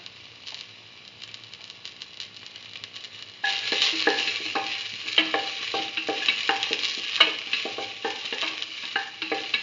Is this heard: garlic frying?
yes